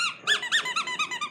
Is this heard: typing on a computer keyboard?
no